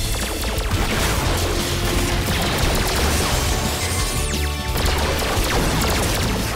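A dense, continuous barrage of blasts and crashes fires in rapid succession, with whooshing bursts layered over the loud din.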